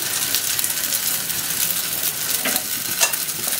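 Semolina, green pea and sour yogurt batter sizzles steadily in a hot pan, a continuous close crackling hiss with a few brief scraping stirs near the end.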